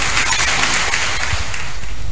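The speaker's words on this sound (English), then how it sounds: "With a round of applause, let's welcome Professor P.K." An audience at a Bible college graduation ceremony in Takoradi claps to welcome a professor to speak. The applause is loud and continuous, with scattered sharper claps and taps over a low rumble.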